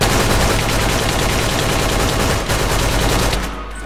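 Loud, sustained rapid gunfire from a weapon in a Minecraft game, a dense continuous barrage of shots that eases off just before the end.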